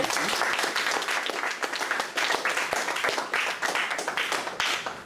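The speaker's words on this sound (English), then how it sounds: "Round of applause for Ms. Denise." Audience applause after a nutrition talk to a JROTC group, a steady wash of many hands clapping at close to moderate range, sustained for several seconds before easing slightly at the end.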